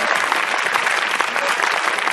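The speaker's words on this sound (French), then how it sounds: "Et on annonce bien sûr Monsieur Tailleux, sous vos applaudissements." Dense, loud audience applause fills a Belgian short-film evening as a guest is announced, a steady unbroken wash of clapping with no pauses.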